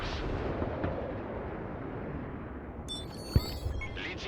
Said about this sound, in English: And we can also just bomb that Igla or Stinger.